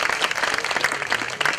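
Dense applause from an audience at a 2013 pet hero awards ceremony, a steady wash of many hands clapping, close and fairly loud, with no talk over it.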